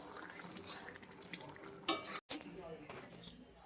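A cornflour mixture stirred in a pan, soft scraping with one sharp clink of utensil on metal, faint and close.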